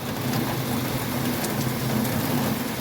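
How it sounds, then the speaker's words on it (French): Heavy rain pours steadily during a thunderstorm, a dense continuous wash of drops drumming on surfaces, loud and unbroken with a low rumble underneath, no voices. "Pour l'instant, c'est que de la grosse pluie"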